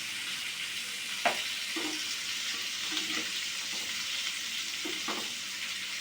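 Rohu fish pieces and other ingredients fry in a pan with a steady, even sizzle, with a few soft clinks of turning and stirring in the foreground.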